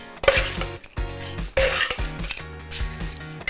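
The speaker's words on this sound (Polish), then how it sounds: "Lód kruszony." Crushed ice tumbling into a glass for a Polish cider and lime drink with mint, several loud bursts of clinking and rattling, close and clear.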